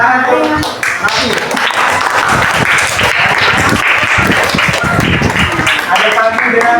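A group of children claps hands in a loud, close burst, the claps dense and slightly uneven and mixed with chatter and voices throughout.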